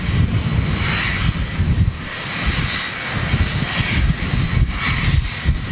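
A Cathay Pacific Airbus A350-1000 lands on a wet runway at Manchester Airport, its jet engines giving a loud continuous roar with rumbling spray noise and hiss, steady throughout.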